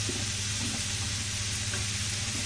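Onion, carrot and minced garlic stir-fried in a pan for an eggplant side dish, a steady close sizzle with faint scraping of stirring running evenly throughout, no voices.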